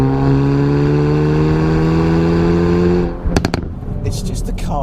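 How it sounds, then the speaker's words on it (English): A Hyundai i30 N Performance car engine drones at steady revs, then lifts off into a rapid burst of sharp exhaust pops and crackles, close and loud. "Sounds absolutely marvellous, as you can probably hear from all these pops and bangs."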